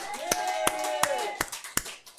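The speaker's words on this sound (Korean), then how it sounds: "영광의 박수." Congregation clapping in unison during a Korean church Sunday morning worship service, five sharp, evenly spaced claps over a held sung or spoken tone, with voices continuing underneath.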